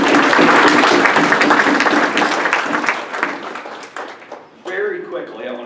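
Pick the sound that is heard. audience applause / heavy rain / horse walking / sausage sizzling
audience applause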